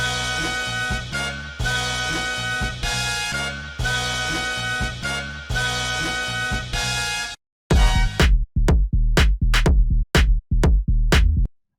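A tech house track moves from a dense, sustained pre-drop sample through a brief silence into a dry, punchy drop of sharp kick and bass hits in a tight, loud rhythm, with no voices.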